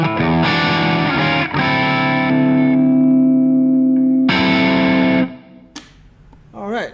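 Electric guitar played through a 5F6 Bassman amplifier on the mids channel, a loud distorted tone with sustained chords and held notes, then a brief pause and a few quieter plucked notes near the end.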